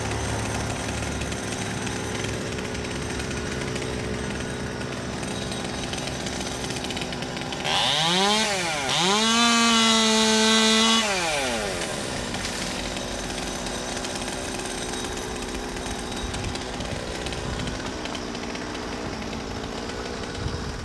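A chainsaw prunes linden tree branches on a commercial tree-service job. A steady motor drone runs throughout, then a loud revving burst with a swooping, rising and falling whine dominates the middle before it settles back to the idle hum. No one speaks.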